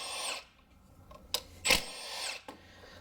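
A power driver with a T30 Torx bit removing coil pack center bolts on a rough-running car, short sharp whirring bursts with clicks in between, close and fairly faint.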